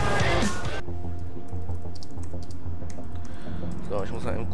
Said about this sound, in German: ich muss mal eben kurz tippen